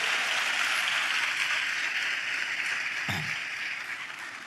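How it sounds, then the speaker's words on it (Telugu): A church congregation claps together during praise, producing a continuous, dense patter of many hands that holds steady and tapers slightly toward the end. "అందరం చప్పట్లు కొడుతూ స్తోత్రాలు చెప్దాం"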